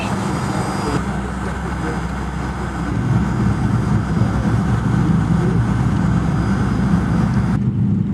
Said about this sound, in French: De Kinshasa, pour arriver à Kasongo, nous avons pris un avion jusqu'à Kindu.